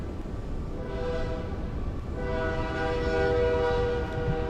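A train passes with its horn sounding in long steady tones over a continuous rumble of rolling wheels, moderately distant and growing slightly louder toward the end.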